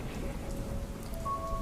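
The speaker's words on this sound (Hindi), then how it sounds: "एक तो सारा दिन बारिश हो रही है" Steady rain falling, a continuous soft hiss with a faint tonal hum in the background.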